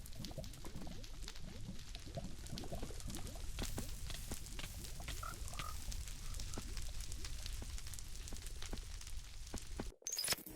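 Many frogs croak at once in a dense, continuous chorus from a video game, steady and fairly loud throughout with scattered sharper calls and a brief cut near the end.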